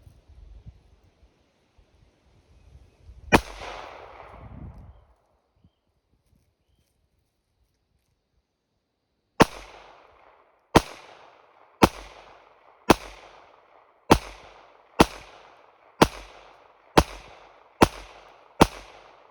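A Ruger LCP Max pistol fires at outdoor targets: one sharp shot, then after a pause a rapid string of about ten evenly spaced loud cracks, each with a short echo. No talking.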